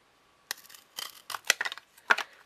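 A run of scissors snips cutting pieces for a girl's dresser, several crisp crunching cuts in irregular bursts, close and clear with no talking.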